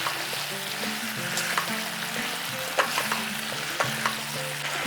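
Ginger and green chili paste fried in a pan for a vegetarian curry: a steady, close sizzle throughout, with occasional scrapes and clicks of stirring and no talk.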